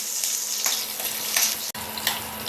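Green chillies sizzle in hot oil in a pan for vermicelli upma, with a steady bright frying hiss, a few louder crackling bursts and a brief dropout partway through; no voices.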